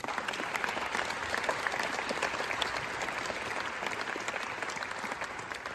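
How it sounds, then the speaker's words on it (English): A conference audience gives a panel a big round of applause: dense, steady clapping that fills the hall, fairly close and sustained throughout with no pauses. "the best time for a big round of applause for our panel"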